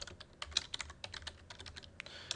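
Fast, irregular clicking of keys on a computer keyboard as a PHP menu is typed out, close and crisp, with no voices.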